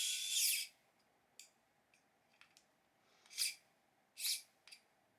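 A Kingsdun KS-882037 electric screwdriver, modest in power, drives a screw into a threaded insert in several short high-pitched whirring bursts separated by pauses and small clicks, close and fairly quiet.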